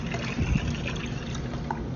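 Water trickles and pours steadily while houseplants are watered indoors, a continuous close liquid dribble with a brief louder splash near the start.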